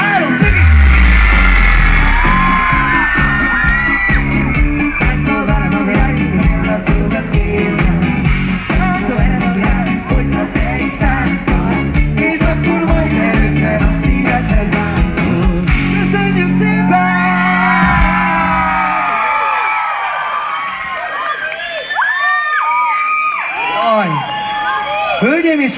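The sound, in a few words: concert audience screaming on cue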